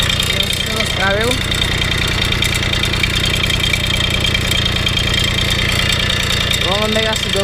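Babeta 210 moped engine idling after a small service, a steady close rattling putter running throughout, with brief voices breaking in near the start and again near the end.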